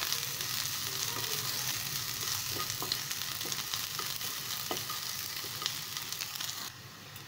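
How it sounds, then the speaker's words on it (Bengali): Onions sizzling and crackling steadily in hot refined oil with black mustard seeds, curry leaves and dried red chillies in a pan, a continuous close fry with occasional sharper pops and no talking. "পেঁয়াজটা হালকা ফ্রাই হয়ে গেছে"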